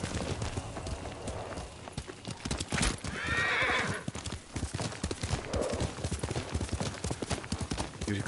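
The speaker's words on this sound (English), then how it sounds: "Yuriko's horse." Horse hooves clip-clop steadily, and a horse neighs clearly partway through. The scene is set in the samurai video game Ghost of Tsushima, with a faint voice briefly under the sound.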